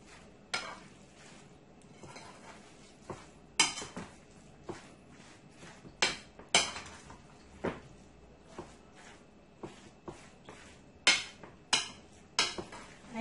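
Tuna wrap ingredients being mixed in a bowl: a run of sharp utensil clinks and scrapes at irregular intervals against a quiet kitchen background, with no one speaking.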